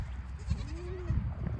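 Goat bleating on a goat farm, a single drawn-out bleat rising then falling, close and fairly loud over low outdoor rumble and scuffling.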